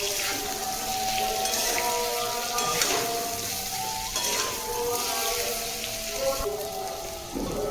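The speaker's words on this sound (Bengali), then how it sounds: "এই তেলে আলুগুলো ভেজে নেব।" Potatoes fry in oil in a wok with a steady, dense sizzle, punctuated by occasional stirring scrapes. It sounds close and moderately loud, with no talking.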